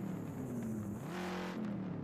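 Quiet engine of a Jeep mod in the Assetto Corsa racing game, a low droning tone that rises and falls in pitch as it revs, faint and alone.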